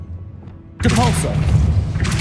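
A Depulso repelling spell goes off in the Hogwarts Legacy video game, a sudden loud magical blast with whooshing impact and ringing tones after a near-silent start.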